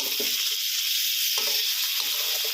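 Fresh shrimp stir-fry in a pan with red curry paste, a loud steady sizzle with scraping stirs running throughout and no talking.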